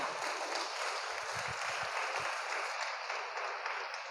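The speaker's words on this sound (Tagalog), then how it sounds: "Palakpak." A church congregation claps during a sermon, a steady wash of applause with a few distinct near claps standing out partway through, then continuing evenly.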